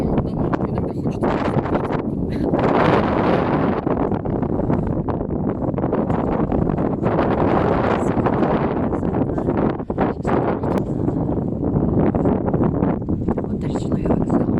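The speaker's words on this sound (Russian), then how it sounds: "Да, ветер, ты думаешь, летом тут ветер?" Strong wind gusts across the Amur River embankment near the river station, a loud continuous roar of buffeting on the microphone lasting throughout, with people talking over it.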